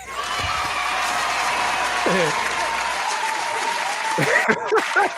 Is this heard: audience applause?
yes